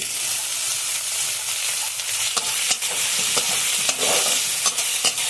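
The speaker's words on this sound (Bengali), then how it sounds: "ভাজা চিংড়ি মাছগুলো ঢেলে দিচ্ছি" Fried prawns tossed back into a karahi with onion, garlic, dried chillies and bay leaves, sizzling steadily up close while periodic spatula scrapes and knocks break through the hiss.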